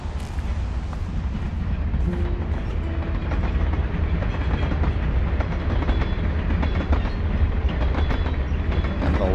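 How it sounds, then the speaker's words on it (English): A train rumbles past at close range in Life Is Strange Remastered, a loud continuous roar of wheels and rail clatter with faint squeals, steady for the whole stretch with no talking. "A lot of trains passing by around here right now."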